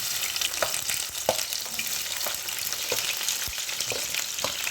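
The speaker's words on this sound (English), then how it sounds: "I'm frying my onions and green chilies" Continuous hissing sizzle of onions and green chilies frying in oil, with occasional light taps and stirring sounds, fairly close and steady, without speech.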